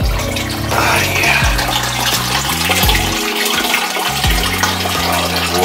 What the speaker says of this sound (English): All that water drained out of that bird.